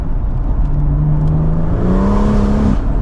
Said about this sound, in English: just listen to that. Nice 3 litre straight 6. It's that rasp you get when you let off as well.